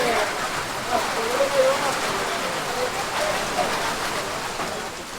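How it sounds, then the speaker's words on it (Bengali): Heavy rain falls outdoors near the Jamuna river, a steady broadband patter that fills the scene loud and close, with a voice talking faintly over it. "বাইরে প্রচন্ড বৃষ্টি হইতেছে।"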